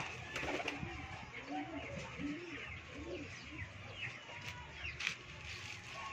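Racing pigeons coo in a loft in Cebu, soft repeated low burbling calls from several birds, fairly close over a steady background hum, with no clear talk.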